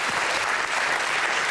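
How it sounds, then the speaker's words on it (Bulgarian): Studio audience applause on a Bulgarian game show, a steady dense burst of many hands clapping, loud and continuous with no talk over it. "Дами и господа, аплодисменти за Ивац"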